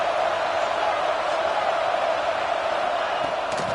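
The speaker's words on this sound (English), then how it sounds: "Huge play here late, and this crowd is coming to help the defense." A large football stadium crowd roars in support of the defense late in the game, a steady, dense wall of cheering and shouting that holds at full volume throughout.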